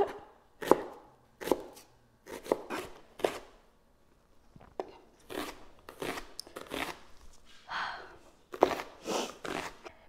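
A knife chops a red onion into thin slices on a board: sharp, irregular strikes in quick clusters separated by short pauses, close and crisp with no talking.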